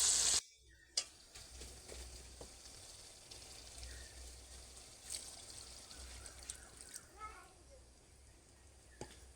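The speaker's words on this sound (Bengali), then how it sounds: "চলো এবার জল দিয়ে দেবো" Water is poured from a clay pot into a pan of pointed gourd (potol) curry, a soft trickling stream running steadily for several seconds, with faint ticks and clinks under it.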